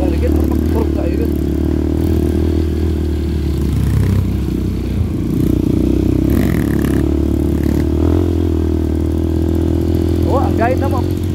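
A motorcycle ridden at night with its engine humming steadily and loudly up close, accompanied by rattling and scraping noise, while people talk over it.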